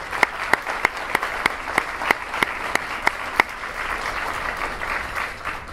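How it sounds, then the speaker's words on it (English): Steady applause from an audience, with sharp individual claps standing out over a dense crowd clapping that carries on throughout. "Could you guys help me give them a round of applause?"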